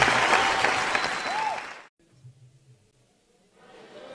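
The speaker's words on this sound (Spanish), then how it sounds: "Aplausos." Loud applause from a crowd at a live tribute concert, with a whistle cutting through, breaks off abruptly; quiet murmuring follows before clapping faintly resumes.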